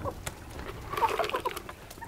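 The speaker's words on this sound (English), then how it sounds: "Anybody that said chickens are nice, peaceful creatures hasn't met my chicken." A backyard chicken clucks in a quick, uneven series of close, moderately loud calls, with a few sharper notes mixed in and no talking over them.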